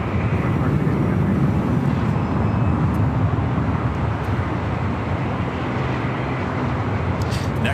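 A jet airliner roars steadily down runway 25 right at LAX on takeoff, a loud, unbroken broadband rumble that holds throughout.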